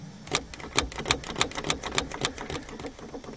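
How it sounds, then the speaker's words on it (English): A 1990s-era Eagle Talon car's starter clicking rapidly during a failed start attempt, a fast, even rattle of sharp ticks close by with no speech. "Clicking."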